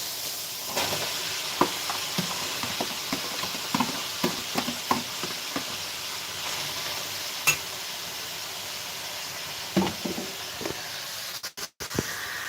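Carrots and onions fry in a pan alongside cooked meat, giving a steady low sizzle broken by frequent clicks and scrapes of stirring, with a brief louder clatter near the end.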